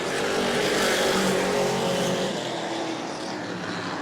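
Super Stock race cars roar past on the final lap of an oval track race at New Smyrna, a loud sustained engine drone that fades slightly toward the end, with no voices.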